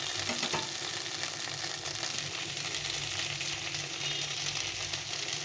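Chickpea chaat with tomato ketchup is stirred in a pan over heat, giving a steady close sizzle with soft scraping and no pauses.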